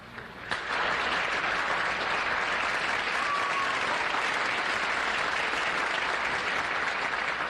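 A television game show studio audience breaks into steady, loud applause after a brief quiet moment, sustained evenly to the end with no one speaking.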